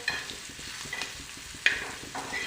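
Green chillies roast in a pan with soft sizzling and repeated scraping stir strokes, one sharper clack midway, close and quiet with no talking.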